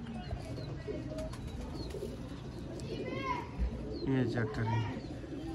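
Sialkoti pigeons coo softly in a backyard loft, a few low rolling calls rising near the end, with someone talking over them and faint chirps and background chatter.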